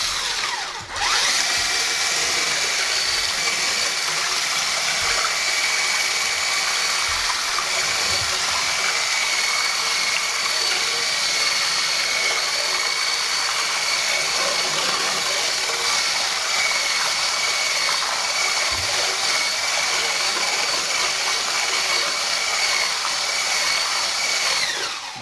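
An electric hand mixer whirs loudly and continuously for a long stretch while beating eggs and sugar for a chocolate flan cake, a close, high-pitched motor drone with no talk over it.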